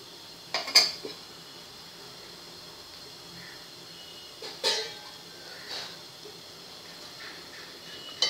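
A metal lid clanks onto a cooking pot of boiling spring onion curry on a gas stove. A few sharp clinks and knocks are spread out over a quiet background.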